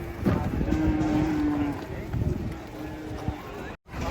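An agitated cow at a morning cattle market gives a long drawn-out moo, then a shorter lower one, nearby and fairly loud over crowd noise and talking voices, with scuffling movement.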